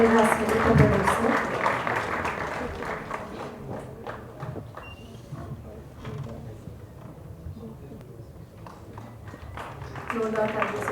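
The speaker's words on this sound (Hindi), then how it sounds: "जोरदार तालियां हो जाए माननीय" An audience at an all-India Ayurveda convention honouring the AYUSH minister claps steadily, a dense patter of applause that is louder at the start and end, with a voice speaking over it.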